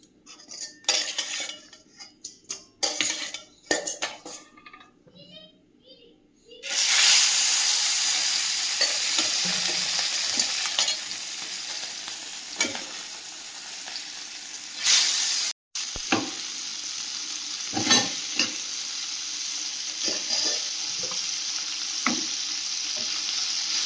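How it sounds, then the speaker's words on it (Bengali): Fish frying in oil in a pan, metal utensils clinking and scraping in bursts at first, then a loud continuous sizzle broken by occasional stirring clatter. "মাছগুলো ভেজে নেব"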